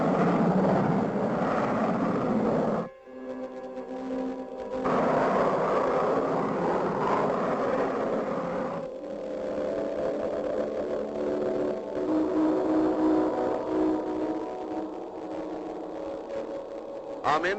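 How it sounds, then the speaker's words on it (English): Cartoon space freighter engine blasting off, a loud sustained roaring rumble with shifting tonal whines, broken by a short silent cut early on before the steady engine drone resumes and carries to the end. "Scott and Crystal blast off in the empty space freighter with Taurus following close behind in the Starduster"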